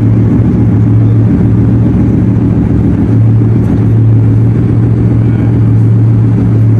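A convertible car engine runs at the Brussels motor show with a loud, steady low hum and a strong constant tone underneath, indoor hall noise around it, no speech.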